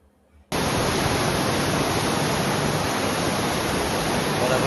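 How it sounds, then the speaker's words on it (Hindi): Water pours into the holy pool at Kedarnath in a loud, dense, steady rush that starts abruptly after a brief quiet moment and continues unbroken, close by and with no voices over it. "ये देखिए इस कुंड में से भर रहे हैं, यहाँ पर वो सारा पानी आता है।"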